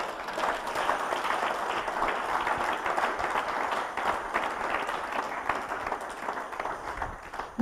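A church congregation at a spiritual warfare and deliverance service applauds together in a dense, steady wash of clapping that holds for several seconds and ends with a brief louder burst.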